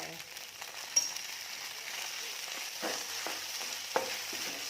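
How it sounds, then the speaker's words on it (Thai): Steady sizzle of vegetarian pork and Shanghai noodles being stir-fried with garlic and pepper in a pan, fairly quiet and continuous, broken by a few soft clanks of a spatula against the pan. "คั่วให้หอม ๆ ค่ะ"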